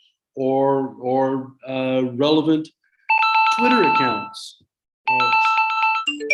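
A phone rings with an incoming call during an online public meeting, sounding as bright repeated electronic tones in short bursts, loud and close, with a person speaking just before it.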